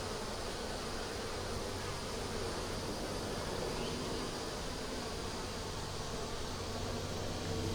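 Dense, steady buzzing of many honey bees around an opened nuc hive, a loud continuous drone that stays even throughout with no speech.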